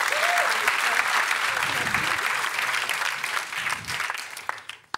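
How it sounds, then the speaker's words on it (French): A studio audience on the French talk show TPMP applauds, a full, steady clapping that carries a few raised voices, then thins out and fades near the end. "On peut lui dire merci, on peut l'applaudir"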